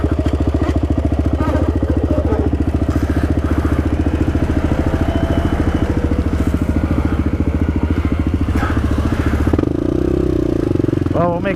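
A Kawasaki Z400 motorcycle engine with a failing clutch, a loud, steady, close mechanical thrum with rapid even pulsing that shifts pitch slightly near the end, with a voice speaking over it.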